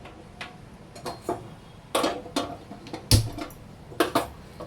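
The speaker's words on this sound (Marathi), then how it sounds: "गॅस पेटवून घेऊया" Gas stove igniter clicking as a burner is lit under a pan, a series of sharp separate ticks spaced irregularly, some in quick pairs, close and fairly loud against a quiet room.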